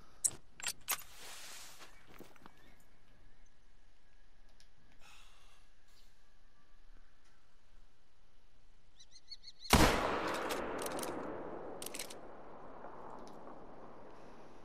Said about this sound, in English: The gunshot didn't get his attention.